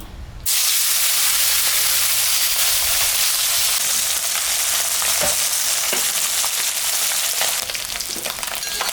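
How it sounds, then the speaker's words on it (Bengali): Lata fish rubbed with salt and turmeric drops into hot oil and bursts into a loud, dense sizzle that holds steady and close, with occasional faint crackles and no talking. "তেলটা গরম হয়ে গেছে মাছটা এখন আমি ভাজে নেব"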